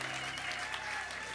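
A church congregation applauding to acclaim the name of Jesus, a dense steady wash of clapping from many hands with crowd voices mixed in, brief and loud.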